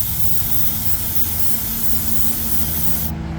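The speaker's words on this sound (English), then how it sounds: "Spraying it off camera again, dang it." A spray paint can hisses in one continuous, steady blast, close by, stopping abruptly at the end, while painting a diecast model car.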